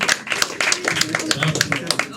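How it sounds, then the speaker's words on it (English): Audience clapping for a comedian at a comedy club in Gzira, Malta: a short burst of brisk, scattered hand claps with voices talking over it. "I'd like to put your hands together, please, and have a very warm welcome to Mr. Joel Herman."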